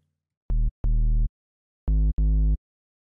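Four short, loud synth bass notes from the Serum synthesizer with distortion, in pairs of two, each note rich in buzzy harmonics and ending abruptly, with silence between pairs.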